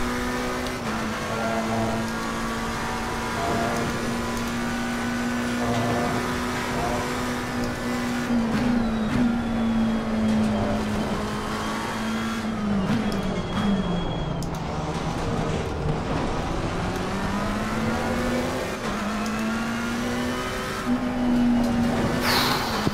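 Race car engine in the racing video game Assetto Corsa Competizione, a steady loud drone held near full throttle for the whole stretch, pitch rising and dipping slightly through gear changes, with no talk over it.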